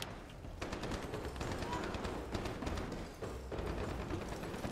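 Close, loud bursts of automatic gunfire in the video game Ironsight rattle on in several long volleys broken by short pauses, dense and continuous over a few seconds.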